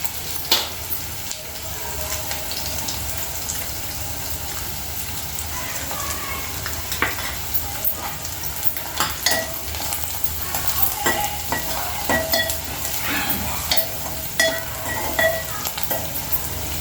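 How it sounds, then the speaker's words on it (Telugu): Onions with turmeric and coriander fry in a pan, a continuous sizzle broken by scraping, clattering stirs and occasional sharp crackles, close and steady throughout. "ఉల్లిగడ్డలు కొంచెం ఫ్రై అయినాక ఇందులో పసుపు వేసుకుందామండి."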